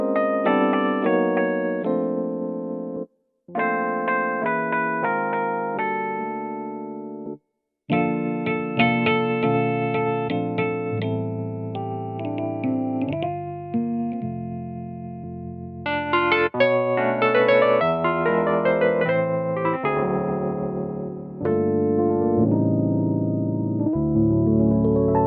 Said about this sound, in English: then you get into some really juicy E-piano tones